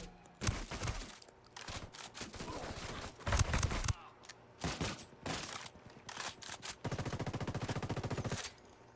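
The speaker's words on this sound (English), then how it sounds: "I'm gonna introduce these fine gentlemen to a suppressed fully automatic" A suppressed fully automatic gun fires in Ghost Recon Wildlands in a string of short rapid bursts, ending with a longer sustained burst, amid other busy game sounds.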